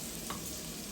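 Garlic frying in butter in a pan for egg fried rice, a steady close sizzle with soft stirring and a brief brighter scrape near the middle, no voices.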